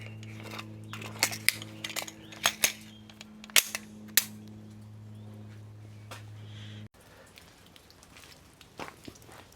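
Pistol shots from a Bodyguard handgun ring off steel targets at an outdoor range, a quick string of sharp cracks with metallic pings, then quieter scattered pops near the end over a steady low hum.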